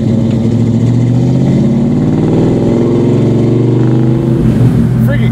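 A big-block 1970 Chevelle with a five-speed manual rumbles loudly from inside the cabin while cruising, a deep steady engine drone that swells as it revs a little toward the end.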